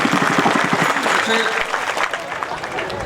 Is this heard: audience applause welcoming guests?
yes